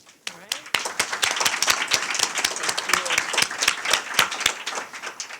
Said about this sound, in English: start off the panel with a welcoming round of applause